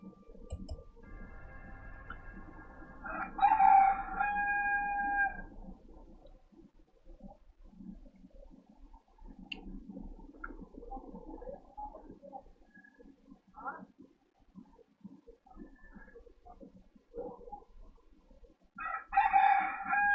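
A neighbour's rooster crows loudly outside, once near the start and again at the end, with fainter clucking and low murmuring voices in between.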